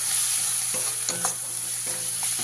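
Ground spices, including Kashmiri chili powder and coriander powder with salt, sizzle in hot oil for a koi fish curry, accompanied by brisk scraping strokes of a spatula stirring the pan, close and steady.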